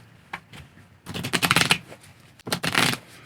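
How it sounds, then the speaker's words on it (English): A deck of playing cards riffled and shuffled for a magic card force, with several bursts of crisp, close flapping riffles separated by brief pauses. "Now, you can shuffle the cards as much as you want."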